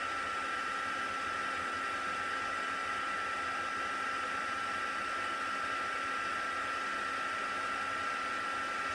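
A handheld dryer blows a steady, loud, unbroken whoosh with a high whine as it dries texture paste on a craft card.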